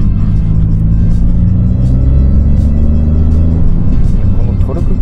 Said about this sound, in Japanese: まだなんかパワー持て余してる感じの、でも結構いい加速してたから